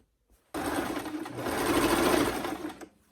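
A sewing machine stitches the side seam of a dress, a loud, steady close-up whirring run lasting a few seconds that starts abruptly and stops cleanly.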